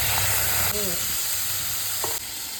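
Potatoes hit hot oil with cumin and chili in a home kitchen, a loud, steady sizzle and hiss of frying close by with a faint stir partway through.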